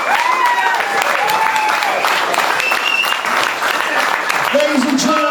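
A political rally crowd in Massachusetts claps steadily and loudly for a candidate, with cheers and whistles rising above the dense applause and a voice calling out near the end.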